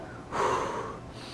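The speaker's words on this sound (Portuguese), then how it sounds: "Puxa o ar e depois solta." A person demonstrates breathing for a biceps exercise: one sharp, audible breath, close and fairly loud, lasting under a second before tailing off into quiet.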